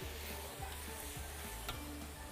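Garlic sizzles steadily in hot oil in a pan, a continuous bright frying hiss with soft stirring scrapes repeating every half second or so, close and alone.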